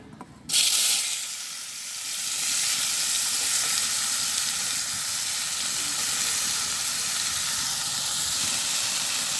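Cauliflower pieces dropped into hot oil over fried cumin seeds in a village kitchen, bursting into a loud, close, steady sizzle and steamy hiss that holds on without a break.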